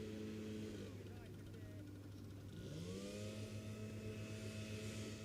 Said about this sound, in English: Somebody's running a blower already.